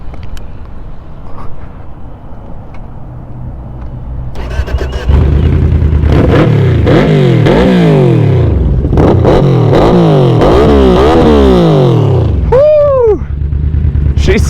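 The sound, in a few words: Yamaha Vmax motorcycle engine revving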